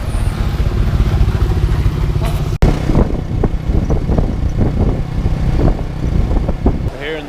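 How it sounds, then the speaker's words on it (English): A tuk-tuk engine putters and rumbles steadily outside a hostel in Siem Reap, Cambodia, close and loud, with a sharp click partway through and clattering road noise over the motor. "We're outside the hostel now and we're just getting into our tuk-tuk."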